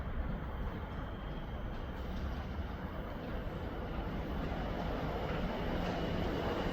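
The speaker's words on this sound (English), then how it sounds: "here we've got one of the tram train coming through platform 1." Tram train rolling through platform 1 at a South Yorkshire station near Rotherham, a steady broadband rumble held at even loudness throughout with no voices.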